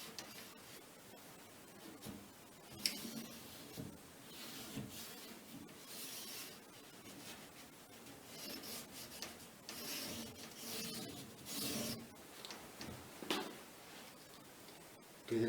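Wax being rubbed by hand into wooden cabinets, a soft steady scrubbing and brushing with rhythmic strokes, quiet and close, occasional light knocks, no one speaking.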